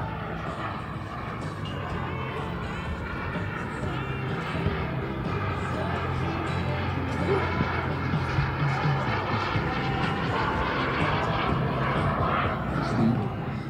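Avro Vulcan bomber flying past at an air show, a sustained loud jet roar that builds gradually, with a commentator talking over the noise.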